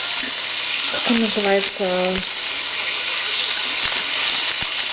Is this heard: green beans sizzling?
yes